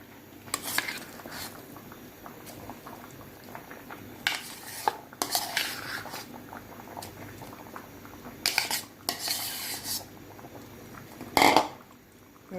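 Pea soup mix with beef being poured into a pot and stirred, with clinking utensil scrapes against the pot and bursts of pouring and bubbling amid quieter kitchen ambience.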